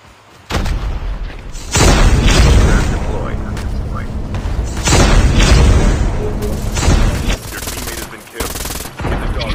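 Twelve-gauge shotgun blasts in a video game firefight, a series of loud, heavy booms with rapid gunfire bursts in between, under excited talking from players.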